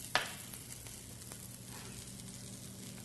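Butter sizzles softly and steadily in a pan as a sauce for scallops gets started, with a brief clatter at the very beginning before the gentle frying hiss settles in.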